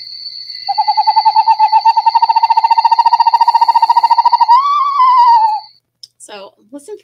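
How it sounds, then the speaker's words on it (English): A screech owl's quavering, descending whinny trills at length, rising slightly near the end before fading; a few brief sounds follow after a short pause. "The screech owl has more of a horse's whinny of a call"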